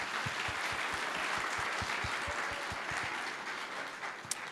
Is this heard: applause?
yes